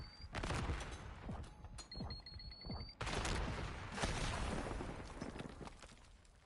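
Gunshots in the Black Ops 6 video game during a tournament match, with dense crackling bursts of fire and sharp pops in busy, fairly quiet game audio.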